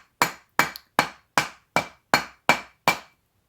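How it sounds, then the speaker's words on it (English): Hammer strikes on a metal ring band fitted over a mandrel, eight sharp, evenly spaced blows ringing out alone at close range. "we need to continue hammering until there is no more gaps"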